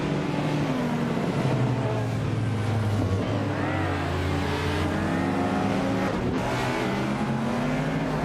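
Race cars roaring off the line at the start of a race, a 1985 Mazda RX-7 among them, engines droning loudly and continuously with rising and falling pitch as the pack accelerates.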